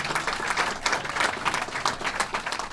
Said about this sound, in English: Please give another round of applause for Congresswoman Kelly.